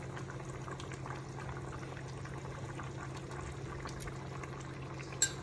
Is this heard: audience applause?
no